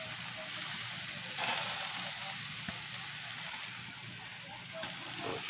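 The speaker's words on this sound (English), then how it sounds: "Ham steak on the barbecue." A ham steak sizzles steadily on a barbecue grill, a continuous close hiss and crackle with a few small pops and no talking.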